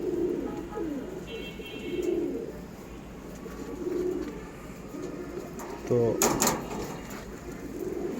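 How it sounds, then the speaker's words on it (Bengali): Breeder stock pigeons in a loft coo in soft, repeated low throaty phrases, spaced every couple of seconds, with someone talking over them and a brief clatter near the end. "এখানে কিছু আছে, ব্রিডার কবুতর, স্টক বার্ড।"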